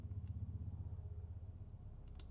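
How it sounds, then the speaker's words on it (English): A helicopter passes overhead as a faint, distant, low rhythmic thudding drone that pulses steadily throughout. "And apologies if you can hear that noise, that is a helicopter."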